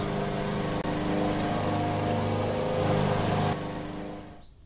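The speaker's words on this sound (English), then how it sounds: "Johnny Tractor is off and running. His first job is to mow the long grass in the meadow behind the house." Cartoon tractor engine running steadily as it mows long meadow grass, a loud even mechanical drone holding for several seconds and then easing off near the end, with no voices.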